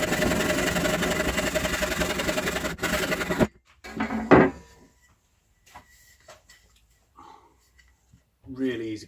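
A Veritas hand saw cuts through inch-thick cherry hardwood with a quick run of close, rasping strokes lasting a few seconds, then stops, leaving near silence and a few faint knocks.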